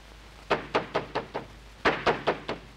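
Someone knocks on a door in two rapid bursts of five firm raps each, loud and close, with a short pause between the sets and no voices.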